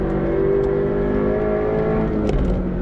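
A Subaru BRZ on track winds its engine up to the red line, a loud, sustained in-cabin engine drone holding high revs steadily before a brief shift near the end.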